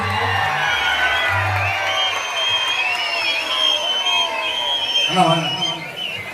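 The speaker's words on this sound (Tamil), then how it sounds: "அண்ணன் அவர்களுக்கு பலத்த கரகோஷங்கள்" A large crowd in actor Soori's home town near Madurai applauds and cheers, with whoops and shouts rising over continuous clapping while an amplified voice speaks over the din.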